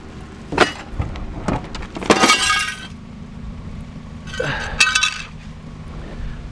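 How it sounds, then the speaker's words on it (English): Glass breaks with several sharp cracks and a bright shattering crash, followed by a second burst of clinking fragments a couple of seconds later, close and fairly loud. "I think I just broke some glass"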